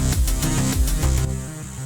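A synthwave beat in FL Studio with a ride cymbal on every beat alongside the kick, loud and steady with regular bright cymbal hits over a thick synth and bass pattern.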